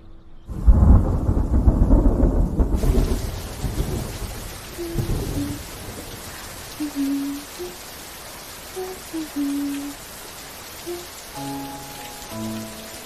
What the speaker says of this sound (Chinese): 下雨了， 怕你没伞